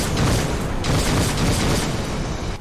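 Flak hits in an Xbox 360 aerial combat game: heavy, booming explosive bursts, a couple of loud close thuds in quick succession with a rumbling tail.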